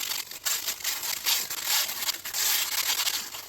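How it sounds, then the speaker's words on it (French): A fine sieve scrapes back and forth over the burnt surface of a loaf of bread in quick, light strokes, making a dry, gritty rasping that repeats in short pulses, close and fairly quiet, with no talking. "Tu poses ton pain et tu viens frotter doucement la surface avec la passoire, comme ça."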